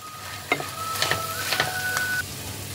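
A spoon stirs and scrapes through broccoli curry with vinegar in a pan, a few distinct clinks and scrapes over a soft steady sizzle, close and fairly quiet.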